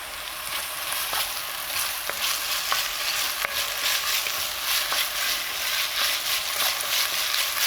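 Chopped onions sizzle steadily in a hot pan, cooking toward golden brown, with light scraping clicks as a utensil stirs them every second or so; close and continuous, no voices.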